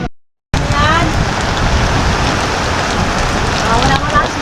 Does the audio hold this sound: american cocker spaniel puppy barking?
no